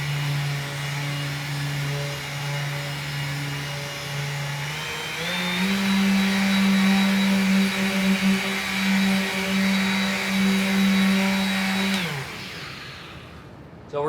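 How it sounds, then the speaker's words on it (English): Electric buffer working Rubio Monocoat Oil Plus 2C into an ash coffee table, a steady loud motor whine that steps up in pitch when sped up, then winds down near the end. "that's why you want to use the buffer, and just go at it until it feels close to dry on the surface"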